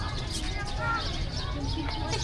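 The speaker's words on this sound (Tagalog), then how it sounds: "Puro huni ng mga ibon maririnig mo." Birds nesting high overhead at a popular tourist spot in Bicol chirp and coo, with faint, scattered calls under a background of people talking.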